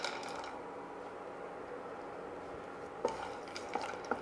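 Pistachios being stirred in a pan while dry roasting for dry fruit laddu: a soft, steady rustle with a few sharp clicks of nuts against metal near the end, no talk.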